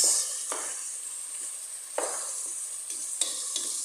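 Chicken tinola ingredients sautéing in fish sauce in a pan, a soft continuous sizzle broken by several brief scraping stirs, close and without talk.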